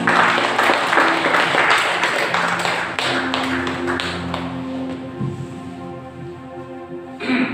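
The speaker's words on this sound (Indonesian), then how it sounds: "Berikan tepuk tangan untuk Tuhan." A church congregation at a Sunday worship service claps together, a dense patter of hands that is loud at first, then thins and fades, with sustained music or organ tones underneath.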